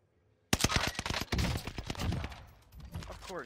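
Marco SMG gunfire in Warzone Caldera bursts out in rapid, loud, closely spaced shots, then trails off into scattered cracks.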